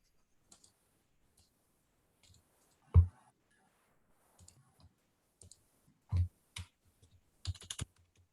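Typing on a computer keyboard, with sparse, quiet key clicks and a few louder taps spread irregularly, ending in a quick flurry of keystrokes.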